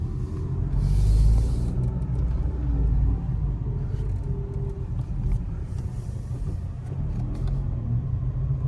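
Car driving on a road trip between Skopje and Belgrade, turning back: steady low engine and road rumble from inside the cabin, with brief swells and faint clicks, continuous throughout.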